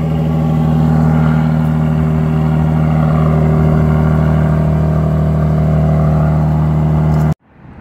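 A dark gray V6 car's engine running close and loud with a strong steady hum and faint revving swells, holding for about seven seconds before cutting off abruptly into near silence.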